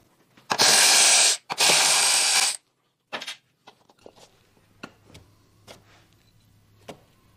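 A ratchet spins out two 12 mm bolts holding the transmission mount behind the shifter of a second-generation Toyota GR86 / Subaru BRZ, in two loud, close whirring bursts of about a second each, followed by scattered quiet clicks and metal handling.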